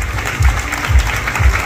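An audience at the Miss Mexico 2023 contestant presentation gives a loud, dense burst of applause, with low booming thumps pulsing about every half second beneath the clapping.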